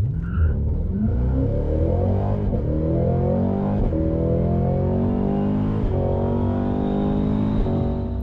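A Cadillac CT5-V Blackwing launches hard on a speed-test run, its engine note climbing steadily through the gears with brief dips at each shift, loud and continuous with no talk.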